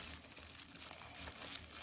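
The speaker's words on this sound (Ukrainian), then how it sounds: "кладемо в пакет та ось так ось скручуємо" Plastic bag crinkling steadily as it is twisted tightly around a breaded chicken Kiev cutlet, a close, continuous rustle and crackle with no talk.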